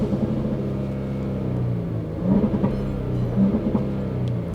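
A Jaguar F-Pace revved in neutral with sport mode engaged, a deep rumbling idle that rises in two short throttle blips, heard close without talk.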